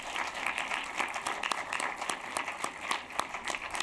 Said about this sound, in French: on peut l'applaudir chaleureusement.